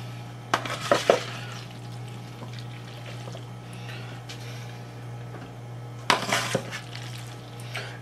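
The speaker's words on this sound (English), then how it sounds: "let's stir this bitch up" Mac and cheese with bacon and shrimp stirred in a pan, with two bursts of scraping and clattering against the pan over a steady low hum and faint sizzle.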